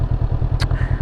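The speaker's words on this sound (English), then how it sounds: "So that's the bike, it's on. Sounds alright, it's throaty-ish." A Honda CB500X motorcycle's small engine idles with a steady, throaty, evenly pulsing rumble, close and loud, heard alone.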